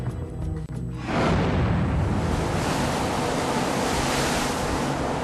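Open-ocean surf crashes in loudly after a quieter opening and then keeps up a broad, continuous roar of waves and wind.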